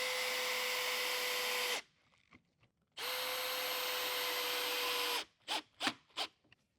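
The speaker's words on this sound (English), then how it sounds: "I'm going to drill the 2-inch self-tapping screws into the pre-drilled holes" A power drill driving 2-inch self-tapping screws into pre-drilled holes in the side panels of a wall cabinet, two long steady whirring runs of about two seconds each, each followed by short tapping and clicking, close and without talk.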